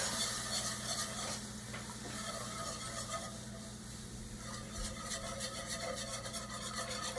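Gravy cooking in a pan sizzles and bubbles steadily as milk goes in, with soft stirring scrapes throughout and no talking.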